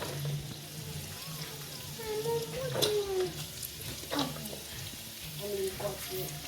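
Carrots added to rice cooking in a pan for fried rice: a light, continuous frying sizzle with occasional clinks and stirring taps, under faint voices talking nearby.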